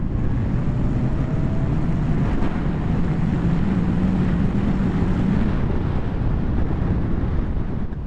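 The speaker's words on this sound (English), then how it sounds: "Let's try 0 to 60. 3, 2, 1. Full throttle." Zero SR electric motorcycle, a 2016 model, accelerating hard at full throttle from a standstill, heard as a steady, loud roar dominated by wind buffeting on the microphone with a faint rising electric whine underneath.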